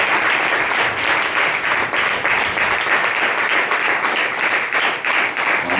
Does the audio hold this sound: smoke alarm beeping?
no